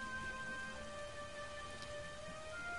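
Steady rain pours in a LEGO Star Wars: The Force Awakens video game scene, a dense, even hiss with faint tonal music lines running beneath it and no talking.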